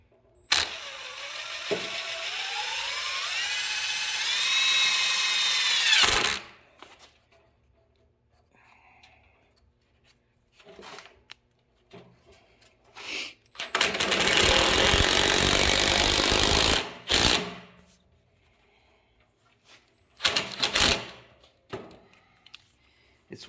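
A power drill drives screws into braces on a wooden chicken coop door made of twisted lumber, with loud bursts of whirring and grinding, a long run near the start and another midway, separated by quiet handling clicks.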